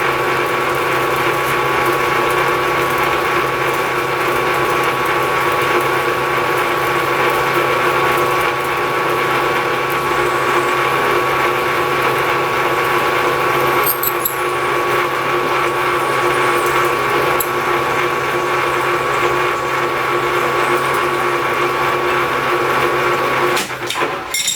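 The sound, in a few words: boring with a larger taper shank drill bit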